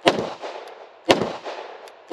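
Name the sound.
Beretta APX A1 Tactical pistol gunshots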